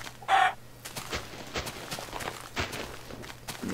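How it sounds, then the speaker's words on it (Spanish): A Minecraft chicken clucks once, short and sharp, near the start, followed by the game's dull footstep thuds and block sounds at an even pace, with a player voice faintly underneath. "¡Hay una gallina metida en la tierra!"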